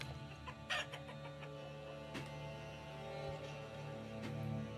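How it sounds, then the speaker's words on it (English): Chickens clucking in the medieval village-building game Manor Lords, a few nearby clucks and soft squawks scattered over a continuous ambient bed of rural background noise, no talking. "Let's add some more chickens."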